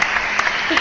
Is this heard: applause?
yes